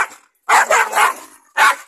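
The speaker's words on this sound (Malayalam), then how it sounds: "ഇപ്പൊ നിങ്ങൾക്ക് കാണാം നായന്റെ സൗണ്ട്." A puppy barks in short, loud bursts close by: a cluster of three quick yaps in a row, a pause, then one more sharp bark.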